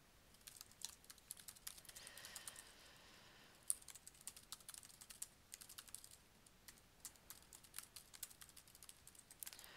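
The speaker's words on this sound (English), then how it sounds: "go to the ReadWrite's Makefile directory by typing in the following command in Terminal" Rapid, light keystrokes on a computer keyboard as a command is entered in a Linux terminal, a steady close patter of clicks with no voices.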